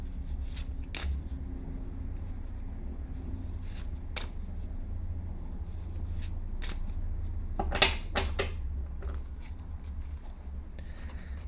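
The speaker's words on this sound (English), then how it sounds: "Spirit says shuffle that back in." Cards are shuffled by hand in a quiet room, producing soft riffling flutters and occasional sharper snaps against a low steady hum.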